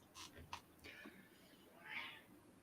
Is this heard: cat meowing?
yes